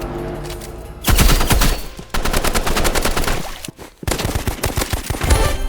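Gunfire from a sniper rifle and an assault rifle in the Rivals video game. Loud, rapid bursts of automatic fire and sharp single shots run almost without a break, with brief pauses between volleys.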